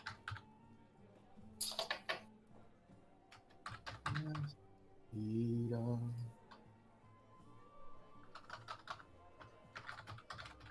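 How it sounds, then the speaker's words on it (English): Typing on a computer keyboard during a tabletop gaming session, quick irregular bursts of clicking keys, near and clear, with a voice speaking briefly in the middle. "Much typing is being heard."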